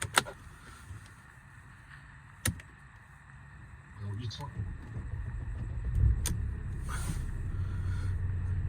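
A 2011 Mercedes C350 CDI V6 diesel automatic starts from cold in freezing weather: a few clicks, then a short cranking burst and a low, steady idle rumble from inside the car.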